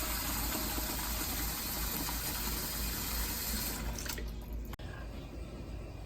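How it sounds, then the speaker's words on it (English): Water streams steadily from a tap into a pot over eggs, a continuous rushing pour that cuts off near the end, leaving quieter kitchen room tone. "I'm just going to pour water into the pot over the eggs, making sure to cover them entirely"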